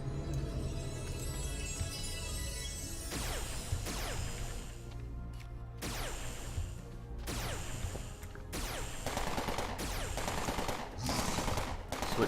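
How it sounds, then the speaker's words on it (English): Sustained automatic weapon fire from the Entropia Universe video game, a steady rattling stream of shots with repeated sharp bursts running continuously throughout, loud and close with no talking. "Oh, he's just continuing to fire."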